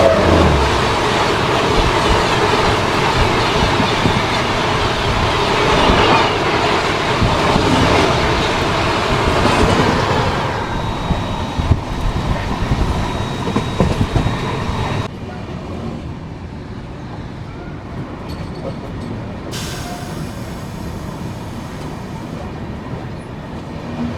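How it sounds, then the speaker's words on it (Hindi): Bangalore Rajdhani Express train passing close by with a loud roaring rush and clattering wheels for about fifteen seconds, then cutting to a quieter, steady rumble. "तो सामने से अभी ये आ रही है बेंगलोर राजधानी एक्सप्रेस।"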